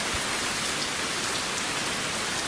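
Heavy rain pours down steadily in Krabi, Thailand, a dense, even hiss with no gaps or voices, loud and close throughout.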